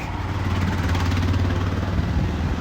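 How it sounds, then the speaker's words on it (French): Tuk-tuk on a road in Sri Lanka, its small engine giving a steady, buzzing putter at moderate loudness that runs through without a pause. "Et là, il y a un tuk-tuk."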